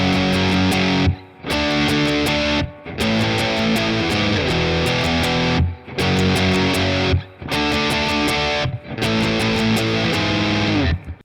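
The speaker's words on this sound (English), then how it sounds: "so that's it for the solo section, which sounds like this for guitar 2." Heavily distorted electric guitar plays a solo section, sustained bright sliding lines in several phrases separated by short gaps, loud and close with no talking.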